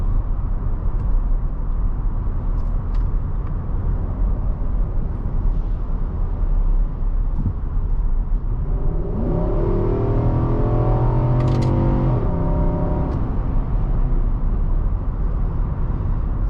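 A 2023 Infiniti QX80's 400-horsepower V8 drones steadily from inside the cabin on the road, then about halfway through the engine note climbs into a rising, harmonic-rich acceleration before settling back into a loud, even hum.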